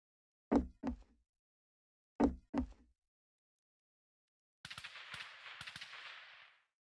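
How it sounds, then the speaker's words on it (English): Two pairs of sharp, distinct shots crack from a Rust game, separated by silence, then a quieter, hissy run of rapid fire follows at a distance. "Who's shooting out there?"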